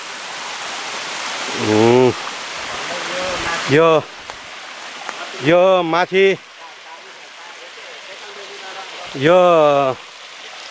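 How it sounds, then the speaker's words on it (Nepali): A small waterfall stream beside the Kamakhya Devi temple flows with a steady close rushing hiss throughout, while someone talks over it in several short bursts. "सानो एउटा पानीको झरना, कलकल कलकल कल बाह्रै मास पानीको झरना बगिरहन्छ"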